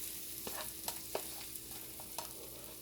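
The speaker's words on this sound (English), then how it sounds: "we're gonna go ahead and mix this on up in here" Cornbread dressing being stirred together with vegetables in a pan, a steady soft scraping and sizzling bed broken by a few sharp spoon clicks against the pan, close and even, with no talking.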